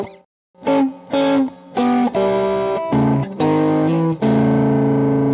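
An electric guitar with distortion and effects plays a bluesy double-stop lick along one string, a series of distinct, ringing two-note hits that ends on a longer sustained chord, with no talking.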